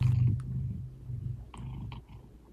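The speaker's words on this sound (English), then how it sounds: "can you hear him purring?" A cat purring close up, a low rumbling drone that pulses steadily, joined by a few soft mouth or movement noises near the end.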